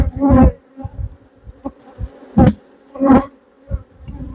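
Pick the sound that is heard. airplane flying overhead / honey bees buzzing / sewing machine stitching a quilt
honey bees buzzing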